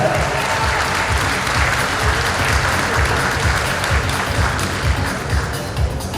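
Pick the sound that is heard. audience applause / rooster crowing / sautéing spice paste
audience applause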